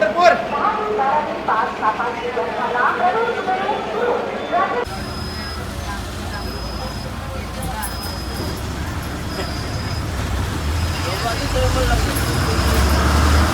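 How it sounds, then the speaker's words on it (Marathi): Buses and road traffic rumble around Solapur's central bus station, a steady engine-and-road wash growing louder toward the end, with crowd babble and voices mixed in and a repeated high electronic beep partway through. "मध्यवर्ती बस स्थानकच्या जवळ आपण आलेलो आहोत."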